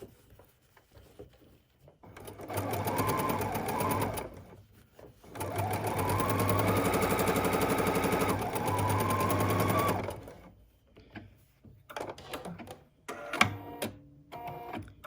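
A sewing machine stitches muslin fabric mask pieces in two long, steady whirring runs of several seconds each, close and loud, followed by quieter handling clicks and rustles.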